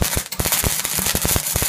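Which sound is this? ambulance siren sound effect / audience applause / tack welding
tack welding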